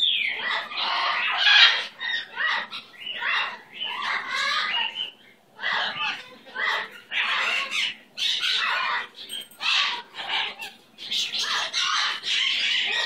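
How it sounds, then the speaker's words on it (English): A pet bird squawks loudly and repeatedly, harsh bursts coming in quick irregular succession, close to the microphone with short pauses between calls. "Are you a good bird, Sasquatch?"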